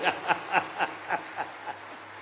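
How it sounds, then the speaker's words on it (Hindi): Applause at an official government event in Madhya Pradesh, with police in the audience clapping loudest; short, evenly spaced bursts of hand claps, about eight in quick rhythm, moderately loud over a quiet hall. "तालियां इधर से कम बज रही, पुलिस की ज्यादा बज रही है"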